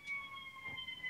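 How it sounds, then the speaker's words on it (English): A faint, distant siren wails steadily in the background, holding sustained tones with a little low rumble. "I don't know if you can hear the sirens around me"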